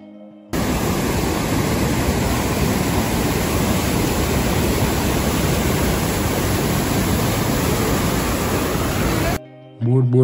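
A waterfall and stream on a Himalayan mountain trail in Myagdi, Nepal, roar in a loud, dense, continuous rush of water that cuts in abruptly and ends just as suddenly, with a brief voice heard at the very end.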